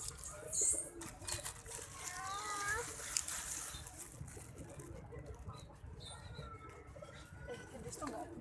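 Pigeons being fed in the morning coo softly and flap their wings nearby, with a few brief chirps, while people talk over them throughout.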